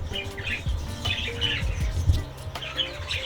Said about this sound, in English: our outdoor aviary is for our finches, doves and canaries